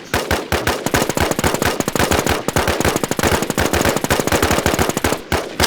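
Rapid, continuous bursts of automatic gunfire in the video game NewZ crack loudly and closely, with brief gaps between volleys and no talking.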